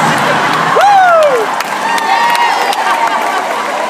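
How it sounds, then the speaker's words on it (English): An audience claps together in a large hall, a dense burst of applause mixed with crowd noise and a rising whoop, fairly loud and close throughout. "I don't know why you're clapping"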